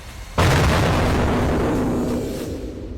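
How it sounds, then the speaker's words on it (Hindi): Explosions from US airstrikes strike Iranian coastal areas near the Strait of Hormuz. A sudden loud blast erupts and swells into a heavy, sustained rumbling roar that slowly fades, with no speech. "कई इलाकों में लगातार धमाकों की आवाज सुनी गई।"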